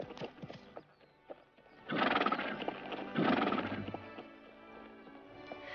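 Horses clip-clopping with scattered hoofbeats, then two loud, drawn-out neighs close by, fading to quieter hoof sounds at the end.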